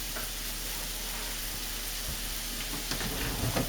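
Chicken broth for chicken and dumplings boils steadily in a pot, giving a constant dense bubbling hiss with faint pops and no voices.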